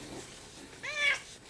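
A cat gives a single short meow, close and moderately loud, over a quiet room background.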